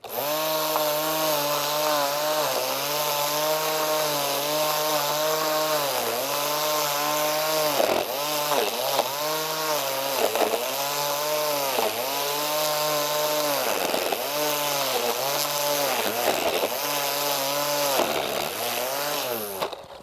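An Einhell GC-CT 18/24 Li 18-volt cordless trimmer cuts through tough weeds with a loud, close, continuous high-pitched whine whose pitch dips and recovers repeatedly as the line bites into the growth.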